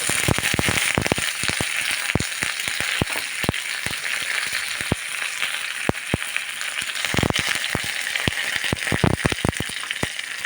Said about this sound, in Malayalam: കടുകിടണം ഇനി നമുക്ക് ഇച്ചിരി കരിയാപ്പില ഇട്ട്